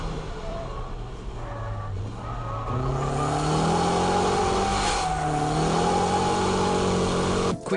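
Car performing a fake drift, a feint weight-transfer technique: a close engine revs and climbs in pitch through gear changes, louder after a shift, with tire noise and a sharp stop at the end.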